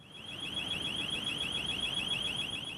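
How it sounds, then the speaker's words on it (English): Burglar alarm going off in a building: a steady, high electronic warble that repeats rapidly without a break, loud and continuous throughout. "Anytime you hear an alarm,"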